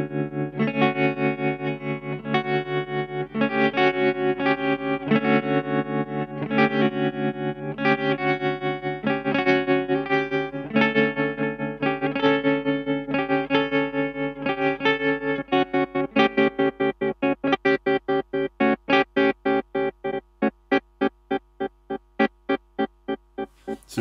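An electric guitar strums steady chords through a Colortone Roundhouse tremolo pedal, the volume pulsing rhythmically, with the throbbing growing faster and choppier toward the end.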